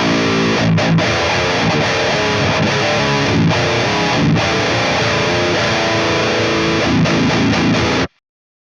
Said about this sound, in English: So it's pretty crunchy as guitar tones go.